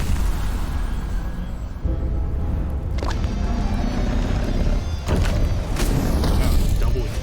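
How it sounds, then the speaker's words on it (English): Explosions in the game Rogue Legacy 2, booming bursts around the middle and again later, heavy and loud amid dense game sound and music. "Oh, double explosions right off the bat."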